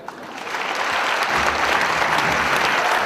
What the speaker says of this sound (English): everyone's clapping as you're walking away